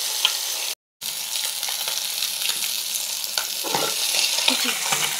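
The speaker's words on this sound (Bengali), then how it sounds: "আমি ধীরে ধীরে মাছটা ভাজি।" Fish fries in a pan with a steady, close sizzle and crackle, occasional sharper pops, continuing without speech apart from a brief cut near the start.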